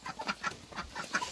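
Chickens on a small farm clucking in a steady scatter of short, moderately loud calls, one overlapping the next, with no talking.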